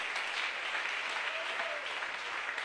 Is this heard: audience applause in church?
yes